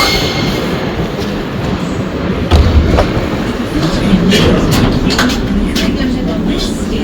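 Loud, steady rumble of a crowded metro train on line E in motion, heard from inside a carriage, with a faint thump partway through and muffled voices mixed in.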